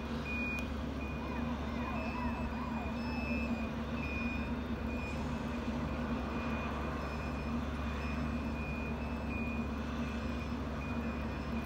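A fire truck turns around at a residential building fire in Krasnodar, its steady high reversing beeps repeating over a continuous low engine rumble and exhaust fan drone. Faint voices are in the background.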